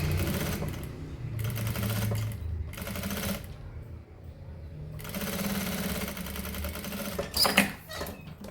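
Sewing machine stitching along the edge of a zipper, close rhythmic mechanical bursts separated by short stops, with a small clatter near the end and no voices.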